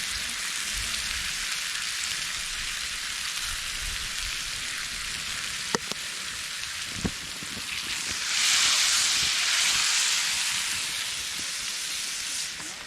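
Steaks sizzling over a campfire, a steady bright hiss that swells louder midway, with a few faint clicks and pops and no talking.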